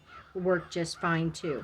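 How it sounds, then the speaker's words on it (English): Crows cawing outdoors, several harsh repeated caws in quick succession close by, overlapping a voice speaking. "you can hear the crows out behind me."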